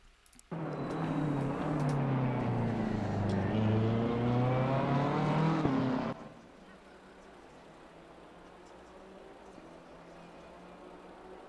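BMW M4 GT3 race car on a lap of Donington Park in Assetto Corsa Competizione, engine rising through gears with a loud, harmonic rasp for several seconds, then dropping abruptly to a quiet low hum.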